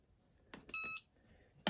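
A heat press timer being set for pressing a wallet gives a couple of short clicks, then a single clear electronic beep of about a quarter second. The sounds are close but fairly quiet, with a sharp knock at the end.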